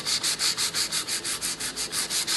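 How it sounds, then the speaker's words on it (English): A laminate worktop is sanded by hand with 180 grit sandpaper in steady, even back-and-forth strokes, about five per second, close and fairly loud, with no voices. "Using some 180 grit sandpaper,"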